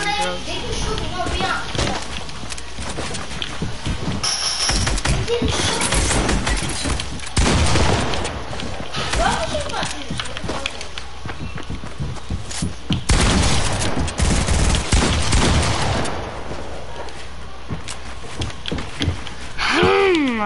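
Video game gunfire in a shooter with building, rapid bursts and booms firing repeatedly through the clip at steady loudness, mixed with ongoing players' talk and game sounds.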